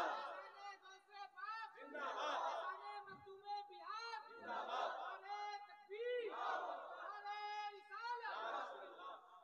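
A large religious gathering chants a slogan back in unison, loud rhythmic shouted phrases repeating in waves from a crowd, with a leader's call in between.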